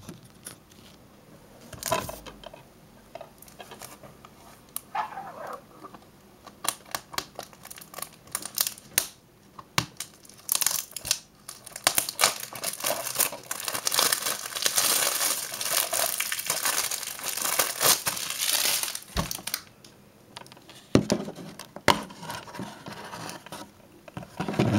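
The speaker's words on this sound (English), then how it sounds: "I'm gonna unwrap this" Plastic wrap being peeled and crumpled off a Bratz movie DVD case, close up, with irregular crinkling and crackling that grows busier and louder in the middle, no talking.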